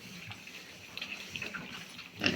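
A piglet grunts in short, soft, nasal bursts, with a louder squeal-like grunt near the end; nearby farm-pen sound with no talking.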